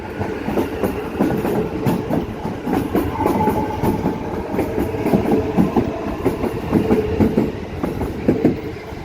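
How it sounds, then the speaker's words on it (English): An HCMT metro train runs through Melbourne's Metro Tunnel with a steady, close rolling rumble and rhythmic clickety-clack of wheels over the track, loud and continuous with no talking. "God, I love the HCMT sounds."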